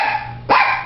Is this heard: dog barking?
yes